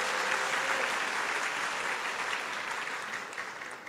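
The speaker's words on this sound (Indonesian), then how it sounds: "Boleh kasih tepuk tangan." A student audience at a university discussion event claps in a steady, full burst of applause that fades gradually over a few seconds.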